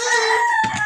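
A rooster crows once, a loud sustained call close by, with a short clucking sound near the end.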